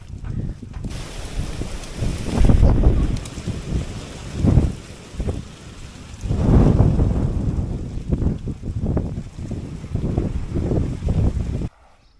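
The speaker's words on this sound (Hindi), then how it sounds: "बारिश आ गया है, बारिश थोड़ा चला जाए क्योंकि हवा चल रहा है तेज" Strong wind gusts during a storm on a Narmada riverbank foot pilgrimage, buffeting loudly in uneven surges that rise and fall over a constant rushing background.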